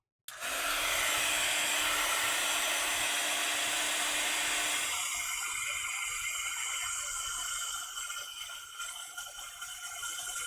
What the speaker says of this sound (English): Heat gun, y'all.